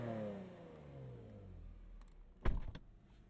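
Modded V6 2019 Chevrolet Camaro 1LE, a faint engine whose pitch falls as it winds down, then a sharp close thump and rattle near the end, with no talking.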